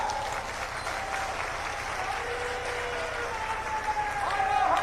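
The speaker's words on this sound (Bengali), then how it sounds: "জোরে করতালির দ্বারা" Loud, sustained applause and crowd noise fill the space at the opening of the Tarakeswar Shravani fair with the chief minister present. It builds slightly toward the end and stays steady throughout, with no clear speech over it.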